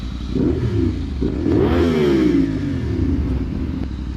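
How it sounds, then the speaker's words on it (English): A CFMoto 450SS motorcycle engine revs nearby, its pitch climbing and falling in a loud, continuous rise and drop over an idling rumble. "Come on, give me a little rev."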